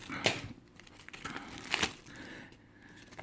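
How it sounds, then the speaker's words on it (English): Plastic packaging being torn and crinkled by hand during an unboxing, with two sharp ripping bursts near the start and middle and softer crackling rustles between them, close and fairly quiet. "We'll just rip the plastic a bit."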